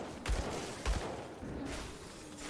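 Pistol shots in the video game Grim Dawn, two sharp loud blasts about half a second apart over a busy background of combat noise.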